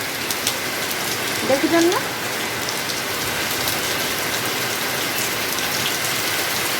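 Heavy rain pours down in a steady, dense hiss that fills the whole stretch, with a brief voice speaking near the start.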